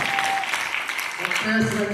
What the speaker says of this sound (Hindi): गुरु माँ के लिए एक जोरदार दिल से ताली होनी चाहिए।